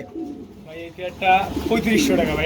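Pigeons coo at a bird market where a breeding pair is being sold, soft repeated throaty calls close by, mixed with people talking in Bengali.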